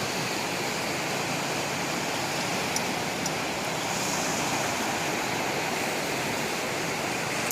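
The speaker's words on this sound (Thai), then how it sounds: "คลื่นก็จะมีเสียงดังกลางวาน ไม่เคยหยุดนะครับกลางวันกลางคืน" Ocean surf roars steadily and continuously on Cha-am beach in Thailand, a dense wash of breaking waves with no pauses.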